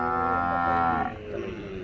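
A calf at a cattle and oxen fair lets out a close, drawn-out moo that fades after about a second, leaving quieter fair ambience behind.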